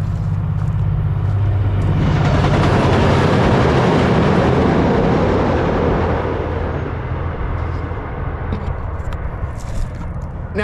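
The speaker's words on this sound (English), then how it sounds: "I think that train and the force that it's going, you know, the speed it's going and the force of the wind" A train passes along tracks in Dallas, Texas, with a loud, sustained roar and rumble that swells and holds close by before slowly easing, with a wind-like rush and faint metallic rattles near the end.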